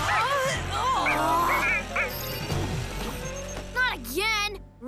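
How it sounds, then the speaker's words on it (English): A cartoon dog barks and yips in short bursts, with whimpering at the end, in an animated kids' episode, heard close and mixed with children's voices talking. "You said he'd quiet down if we brought him outside, but he's still barking!"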